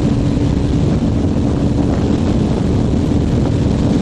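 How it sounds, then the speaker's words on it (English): Strong wind roars into the microphone on a motorcycle ride along a straight expressway, a loud, steady, broadband buffeting that drowns out other sound. "The wind is like really strong."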